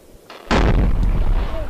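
A loud, sudden explosion bursts in after a brief quieter lead-in, then a heavy rumbling roar sustains to the end.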